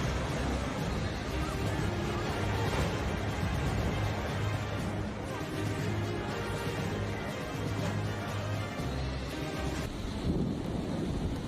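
A strong thunderstorm roars steadily with broadband rumble, rain and wind, a dense continuous wash of noise that stays loud throughout with no clear individual thunderclaps standing out.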